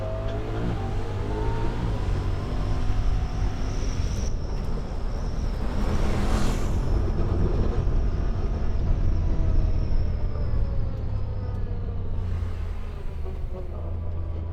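A Honda Talon 1000R-4 side-by-side with its exposed engine runs loudly and continuously nearby, a deep rumbling drone with slight swells in revs and no talking.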